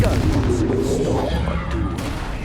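Confringo blast spell cast in the video game Hogwarts Legacy, a loud burst of explosive booms and crashing impacts lasting a couple of seconds and dying down.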